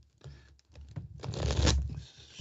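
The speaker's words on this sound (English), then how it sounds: "Shuffle them up." A deck of tarot cards is shuffled by hand during a live psychic reading, a few soft riffles building into a longer, louder crackling shuffle close to the microphone.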